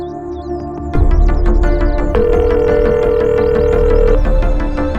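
A telephone rings in a TV drama scene, an electronic ringtone starting abruptly and sounding loud and continuous with a sustained tonal pattern and no talk over it.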